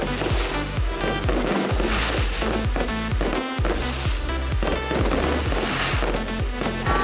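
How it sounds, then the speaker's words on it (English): Fireworks burst in a rapid, continuous barrage at a night show at Plopsaland Deutschland theme park, loud and close, with rhythmic booming blasts, probably set to music. "the music started picking up, and the fireworks started launching"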